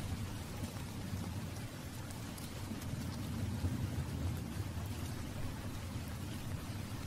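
Steady heavy rain from a storm pours down in a dense, even wash, with a low rumbling undertone throughout and no voices.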